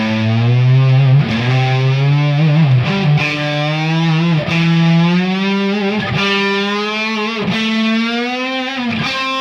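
Distorted electric guitar playing sustained string bends with wavering vibrato, a loud, continuous singing lead line with the pitch sliding up and down between picked notes.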